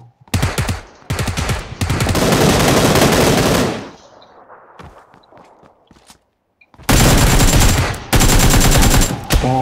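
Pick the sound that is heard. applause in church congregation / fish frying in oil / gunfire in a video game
gunfire in a video game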